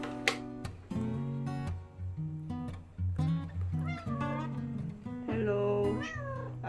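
A house cat meows repeatedly at home, a series of close, drawn-out tonal cries with short gaps between them.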